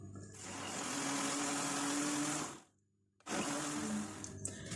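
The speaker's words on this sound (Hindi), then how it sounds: "सब चीजों को हम ब्लेंड करते हैं।" An electric blender whirs loudly, mixing eggs, cardamom, milk, food colour and kewra for egg halwa, running steadily for over two seconds, cutting out briefly, then starting up again.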